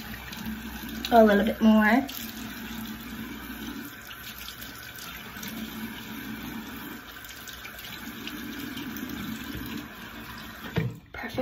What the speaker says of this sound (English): I'm gonna quickly rinse this off